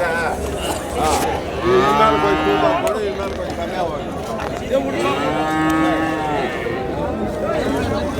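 Cattle and Jersey calves at the Vaniyambadi cattle market: two long, loud moos stand out close by over a murmur of market chatter and background voices.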